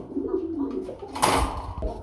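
Pigeons at a seller's loft cooing close by, soft repeated throaty coos with a brief rustle or knock near the end.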